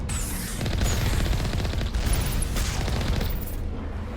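Sustained gunfire and heavy booming from snipers in Mass Effect Legendary Edition fill a dense, loud combat soundscape, with rapid repeated shot impacts and a constant rumbling background throughout.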